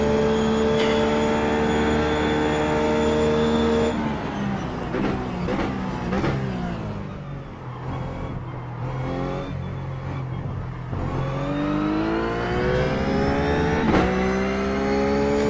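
A Ruf GT3 race car at Spa in iRacing sounds close and loud with a steady engine drone, rising through the revs and dropping at gear changes, then climbing again under acceleration.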